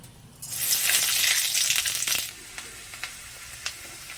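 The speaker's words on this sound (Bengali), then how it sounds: "পুঁই শাক বসানোর জন্য কড়াইতে তেল দেওয়া হয়েছে, এবার পাঁচফোড়ন ফোড়ন দেওয়া হবে" Panch phoron spices hit hot oil in a wok and burst into a loud hiss lasting under two seconds, which then fades into a few scattered crackles and pops.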